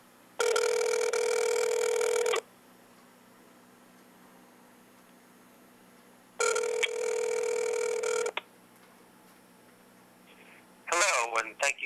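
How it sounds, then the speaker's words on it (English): A telephone ringing in two long, loud electronic bursts separated by a quiet pause, before a recorded voice begins answering at the end. "Okay, we got it ringing."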